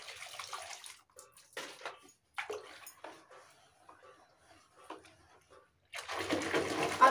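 Clothes are washed by hand in a bucket of water, with intermittent sloshing, splashing and wringing sounds between quiet gaps. A louder burst of water splashing comes at the end.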